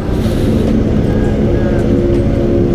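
A Kawasaki ZX25 motorcycle with a stock exhaust drones steadily on a Sunday group ride near Lembang, Bandung, a loud, constant, low engine hum with no pause.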